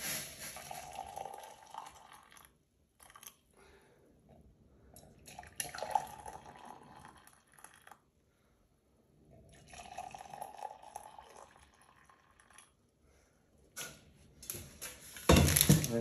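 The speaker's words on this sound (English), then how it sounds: "The second step is you're going to fill your cup with 8 ounces of water." Water poured into a cup, several splashing, gurgling pours of a few seconds each separated by quiet gaps, close by, with a louder rustle at the very end.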